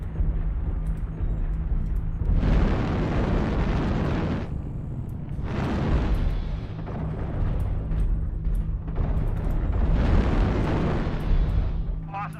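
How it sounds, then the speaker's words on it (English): Artillery strike explosions in a video game rumble in several long, heavy waves, loud and dense, each lasting a couple of seconds with short lulls between them. "Target spotted. Artillery strike activated."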